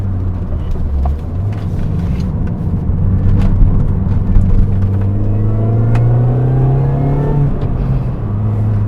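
A Mini Cooper S R53 with its supercharger climbing past about 4,000 RPM: a loud, steady engine roar with a whine that rises in pitch under acceleration, close and continuous, then dips briefly near the end.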